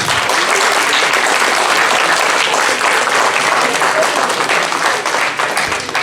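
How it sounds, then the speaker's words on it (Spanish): A large audience at a district mathematics education conference applauds loudly and steadily, a dense wash of clapping that fills the whole stretch without pause. "También un aplauso para ustedes por la resistencia"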